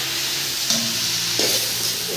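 Pork meat fries in a pan during an outdoor picnic, with a steady, dense sizzle running throughout and a couple of brief clinks or stirring scrapes partway through. No voices are heard.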